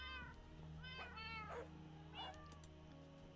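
Cats meow in the video game Minecraft: several clear, drawn-out meows in a row over a steady low background hum.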